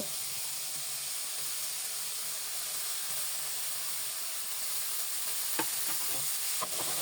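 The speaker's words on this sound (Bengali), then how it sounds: "এবার সবজিগুলো মশলার সাথে ভালো করে মিশিয়ে নিল" Mixed vegetables stirred into hot frying spices such as cumin powder in a pan, a steady soft sizzle and hiss running throughout with a few faint scraping clicks near the end.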